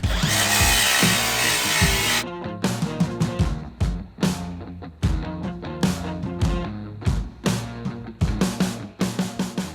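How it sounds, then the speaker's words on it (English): A power sander whirs in bursts inside an off-road Humvee, starting with a sustained loud buzz, then stuttering on and off as it grinds against the interior walls and ceiling. "I ended up sanding down everything inside, especially the wall and the ceiling"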